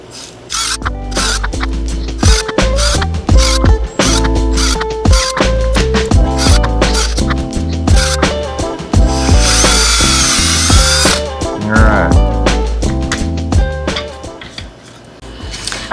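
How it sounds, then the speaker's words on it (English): A power drill whirs and grinds through wood with a backing piece underneath, in repeated bursts, starting and stopping, with a longer sustained drilling stretch in the middle, loud and close. "I'm putting another piece of wood underneath these to keep from destroying the back side of these as I drill"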